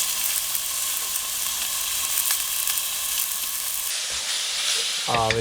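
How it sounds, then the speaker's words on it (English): Chicken sizzles and fries steadily in a pan on a camping stove in a car during UK winter camping, a constant close hiss with a brief clatter near the end. "Sizzle, sizzle."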